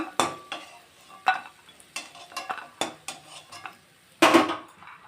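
Fried bori are lifted out of a kadai of hot oil, with a spoon clinking and scraping against the metal in sharp, scattered knocks over a faint sizzle, close and quiet in between.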